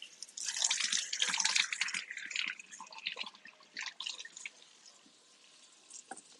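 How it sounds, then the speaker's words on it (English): Baby carrots rinsed under a running kitchen tap for a beef pot roast, water splashing and dripping over them in a close, busy burst that thins to lighter trickles and drips toward the end, with no talking. "we're just gonna rinse them and put them in the pot"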